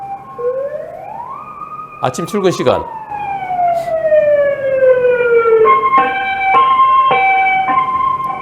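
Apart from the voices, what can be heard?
ambulance siren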